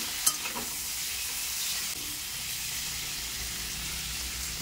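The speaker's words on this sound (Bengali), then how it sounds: "এখন ভাজা ভাজা করতে হবে, সবজিগুলো যতক্ষণ সুন্দর করে ভাজা না হবে।" Vegetables frying and being stirred in a pan, a steady broad sizzle with a faint clink near the start, fairly quiet and continuous with no talk.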